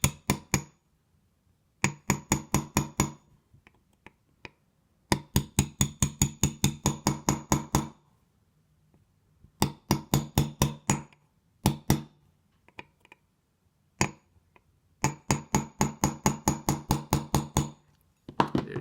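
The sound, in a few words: punch tapped with hammer to knock part flush in MP5 magazine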